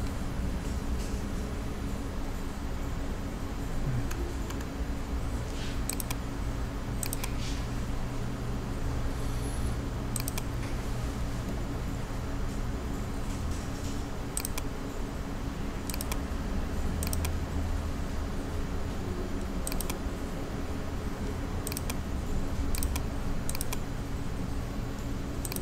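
Sparse computer keyboard presses and mouse clicks, sharp isolated ticks at irregular intervals over a steady room hum and faint background noise, with no talking.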